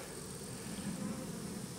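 Japonica honey bees fanning at a hive entrance after a swarm is recombined, a steady low buzzing hum that holds evenly and fairly close throughout, with no talk.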